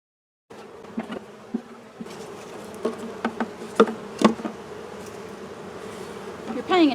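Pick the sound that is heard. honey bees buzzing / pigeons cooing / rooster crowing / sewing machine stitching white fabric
honey bees buzzing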